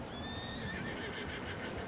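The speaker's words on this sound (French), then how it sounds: "On va accrocher les chevaux ici" A horse neighs loudly in a video game set in a mountain hunting area, one long whinny rising and falling over steady background noise, with faint hoof sounds.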